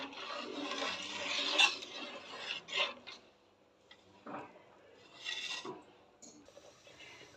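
Irregular scraping and clinking of a spoon stirring powdered milk into date-jaggery payesh in a cooking pot, soft and close, with gentle rubbing strokes and brief pauses.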